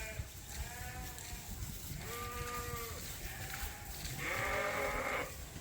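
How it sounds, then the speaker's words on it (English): Suffolk sheep bleating in a flock kept off pasture, several drawn-out bleats from different animals at moderate distance over a steady noisy barn background. "This is why we can't let these sheep out to pasture."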